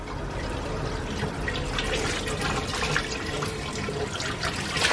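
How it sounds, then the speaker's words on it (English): Water pours steadily into a garden pond filter box, a continuous close splashing and gurgling that slowly builds in loudness, with no talk. "First of all, we'll fill the filter box."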